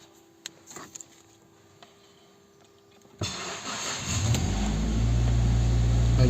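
A Mazda car engine cranks and catches after a quiet few seconds with faint clicks, then settles into a steady, loud idle that builds slightly in the final seconds.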